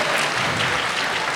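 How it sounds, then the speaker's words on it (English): A crowd applauds at a Power Rangers convention panel, a thick, steady roar of clapping that is loud, close and continuous throughout. "Give yourselves a round of applause"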